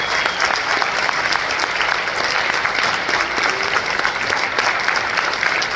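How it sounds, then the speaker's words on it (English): Steady, dense audience applause after a gala concert performance, loud and even throughout with no voices over it. "I think they should have another round of applause."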